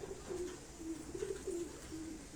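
Pigeons kept by a fancier at his shop coo softly in a short series of low, repeated calls over a faint background hum.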